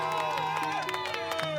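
Friends and family of a victim cheering after a verdict, a dense crowd of voices with shouts and whoops rising and falling over about two seconds.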